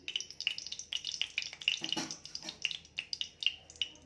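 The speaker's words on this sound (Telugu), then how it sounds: "ఆయిల్ కూడా హీట్ అయ్యాక ఉల్లిపాయ ముక్కలు వేసుకున్నాను" Sliced onions frying in hot oil in a pan, with a steady, faint crackling sizzle and scattered sharp pops close by.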